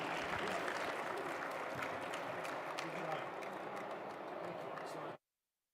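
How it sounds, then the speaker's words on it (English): Audience applause for panelists at a live Ignite the Game event stage: a dense, steady wash of clapping from a crowd runs for about five seconds and then cuts off abruptly into silence. "Just one last round of applause for the panelists here today."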